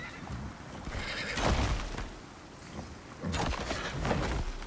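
A small horse neighs in the survival video game Icarus, two whinnies rising over a steady ambient background, moderately near.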